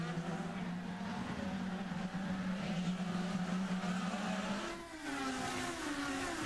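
A 2009 IndyCar race car at St. Petersburg accelerates hard out of a corner, its engine note climbing in pitch before a gear change, then rising again, loud and steady with no talking over it.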